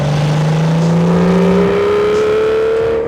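A manual Aston Martin DB9 is heard from inside as the engine drones loudly and steadily, its pitch climbing smoothly as the car accelerates through a gear. No one talks.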